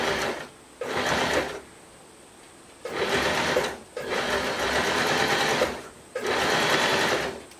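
A sewing machine stitches swimsuit fabric in four loud bursts of rapid, even needle chatter, with short quiet pauses between runs and no voices.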